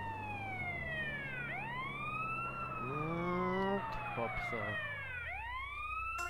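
An ambulance in GTA San Andreas wails on a rising and falling siren, loud and continuous, with other sweeping siren tones and traffic rumble around it. A brief spoken exclamation comes midway.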